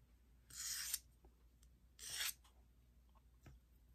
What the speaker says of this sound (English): what I'm doing is I'm doing a little sanding on each edge